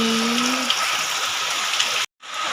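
Dense, steady roar of heavy rain close by, hissing continuously before a brief cut to silence, then resuming.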